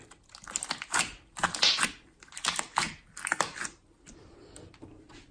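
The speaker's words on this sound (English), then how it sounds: "This is my super crunchy slime." Crunchy slime packed with pom-poms and other bits being squished and mixed by hand, a run of close, loud crackling crunches and squelches in uneven bursts, with no talking.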